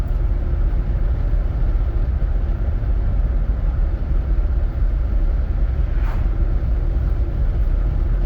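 Steady low road rumble from a car cruising in overdrive, a smooth engine and tire drone that holds constant and near with no other sounds over it.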